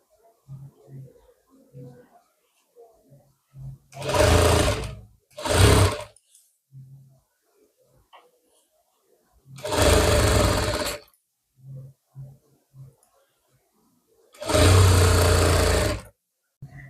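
A sewing machine stitches a blouse back neck in four short, loud bursts of one to two seconds each, with quiet fabric handling between runs.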